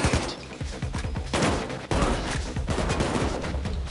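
Gunfire in the co-op heist video game Payday 2, loud, sustained rapid-fire bursts with dense overlapping shots and a brief gap near the middle, close and heavy throughout.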